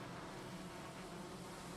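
Bees buzz around a beehive in the Valheim video game, a soft, steady hum that stays faint and even through a short moment, with no voices.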